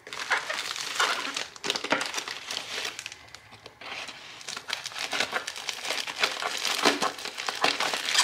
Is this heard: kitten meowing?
no